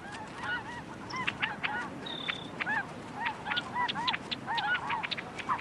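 Barnacle geese honk repeatedly, a chorus of nasal calls overlapping at a moderate distance over a faint background hiss.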